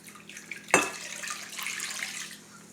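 Warm water is poured into a bowl of yeast and sugar for dinner rolls, starting with a sudden splash and then a soft, steady trickle and gurgle, fairly faint and close.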